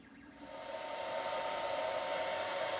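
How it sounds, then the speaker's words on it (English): A hair dryer running on its low setting blows over crayons to melt them, a steady close whooshing hum that swells slightly in the first second and then holds constant, with no voice. "I currently have my hairdryer on low so that you can hear me"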